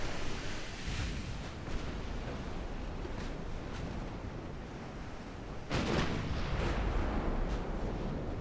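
Naval gunfire from warships, including 8-inch-gunned heavy cruisers, in the naval battle game Ultimate Admiral: Dreadnoughts: a few distant, muffled booms over a constant rushing wash of sea and wind.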